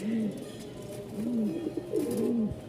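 Giribaz tumbler pigeons give soft repeated coos, three low rolling calls at an even pace, close by over light background noise and faint voices.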